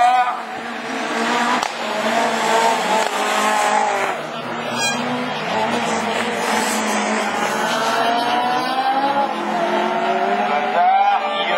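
Rallycross race cars in a French championship Division 4 heat roar continuously around the track, engines revving and tires squealing, with commentators talking excitedly over the racing throughout.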